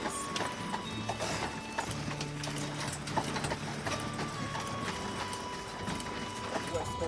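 Horse-drawn carriage on a narrow Aran Islands road, hooves clip-clopping steadily alongside creaking, rattling carriage mechanisms, with faint voices talking in the background.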